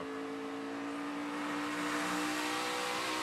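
A NASCAR Xfinity Series race car roars on throttle at Iowa during the 2016 American Ethanol E15 250. A steady, dense engine drone runs throughout with no talk over it.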